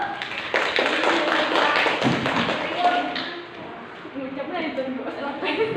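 Students in a classroom break into a short burst of dense clapping that lasts a few seconds and then fades into chatter and low voices.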